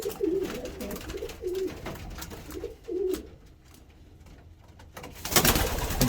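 Pigeons coo repeatedly in a loft as two cock birds, including a Hooven cock, battle for dominance, rhythmic nearby cooing with scuffling and a sudden loud flutter of wings at the end.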